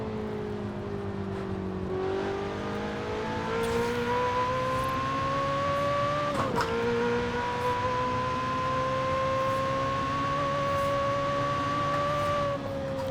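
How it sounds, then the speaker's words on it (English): Cabin view engine sound of a Ferrari 488 Pista in Forza Horizon 4, with turbo whine and intake noise rising in pitch through sustained acceleration, briefly dipping at a gear change before climbing again, loud and steady. "It just has more of a whine to it from the turbos, and then you really just get a lot more intake noise."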